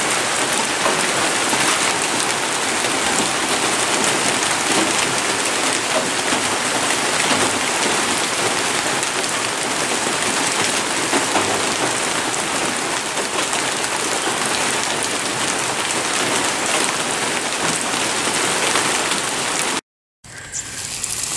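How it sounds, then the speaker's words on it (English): Steady rain falls for about twenty seconds in a dense, even hiss with no pauses, loud and close, then cuts off abruptly near the end. "If it were rain like it's raining right now for about 30 minutes,"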